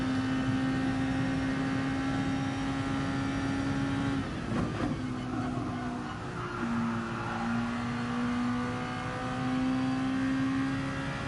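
A race car engine at full throttle on the Monza circuit sustains a loud, steady high whine, dipping briefly midway through a corner before climbing back to a constant roar.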